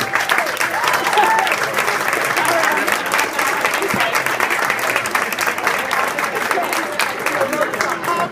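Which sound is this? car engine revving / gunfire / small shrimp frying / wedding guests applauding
wedding guests applauding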